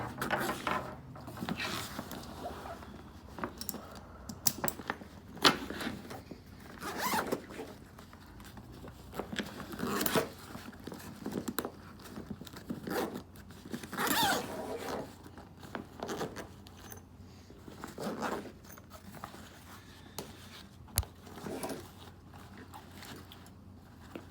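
Zippers on a Kosan travel pack are opened to convert it out of duffel mode, producing faint, repeated ripping and ratcheting zipper pulls with soft handling rustles over about twenty seconds.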